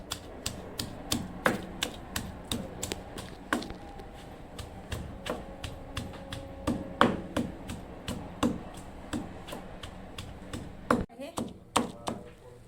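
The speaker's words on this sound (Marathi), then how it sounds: "आता ह्याला वाटून घेते मी।" Crispy roasted dried shrimp with salt is pounded for thecha, producing a fast, steady series of close, hard taps and knocks that continue throughout.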